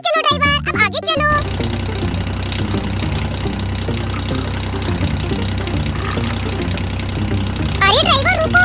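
A toy monster tractor drives along with a steady buzzing, droning motor sound that runs throughout, preceded by a brief burst of music-like tones and with a voice briefly near the end.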